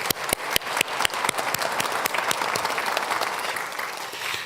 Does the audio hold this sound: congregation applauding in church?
yes